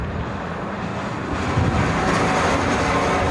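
A Philippine Airlines airliner on final approach at Honolulu airport makes a broad, rising jet roar that swells from moderate to louder as it nears, with no voices.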